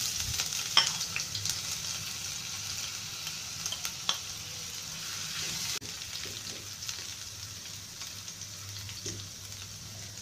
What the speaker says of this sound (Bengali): সামান্য তেল দিয়ে দিচ্ছি আদা কুচি